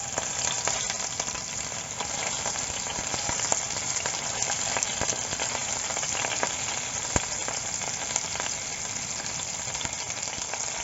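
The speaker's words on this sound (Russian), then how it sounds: "Обжариваем со всех сторон до румяной корочки." Pork frying in vegetable oil in a heavy-bottomed sauté pan over medium heat, a steady dense sizzle with scattered sharp pops and crackles running throughout, close and continuous with no voices.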